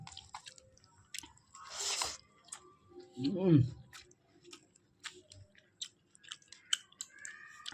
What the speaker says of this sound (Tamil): அப்பளத்தை லைட்டாக நினச்சிட்டு அப்படி குழம்போட வச்சு சாப்பிட்டு பார்ப்போம்